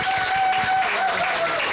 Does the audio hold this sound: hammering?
no